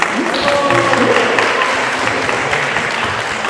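An audience at an evening feast gives a short burst of applause, many hands clapping at once over a brief mix of voices.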